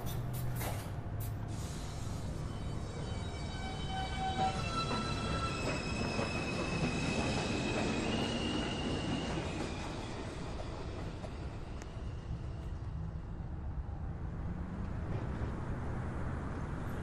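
A Manhattan-bound NYC Subway 2 train arrives at Beverly Road, its wheels squealing in drawn-out high whines over a steady, loud rumble of rail cars, with no voices.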